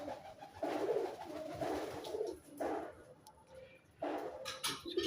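Pet pigeons coo in a few soft, throaty bursts with short pauses between them, fairly close and otherwise quiet around them.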